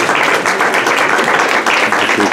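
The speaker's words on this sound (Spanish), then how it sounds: "Fuerte el aplauso, por favor." Applause from a crowd at a ribbon-cutting opening a police museum, dense clapping filling the whole stretch at steady, fairly loud level with faint voices mixed in.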